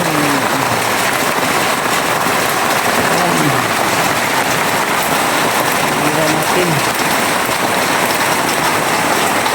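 Heavy rain pours steadily at a house being built, a dense continuous hiss drumming on surfaces for the whole stretch, with someone talking over it.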